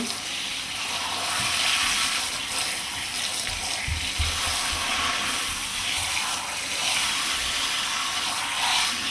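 Water from a tap runs steadily while hair extensions are rinsed in a sink, a continuous close splashing hiss with small shifts as the hair moves under the stream, no talk.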